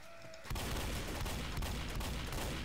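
Gunfire in the Left 4 Dead sewer level: after a quiet start, a loud burst of rapid repeated shots rattles on continuously to the end, close and dominant.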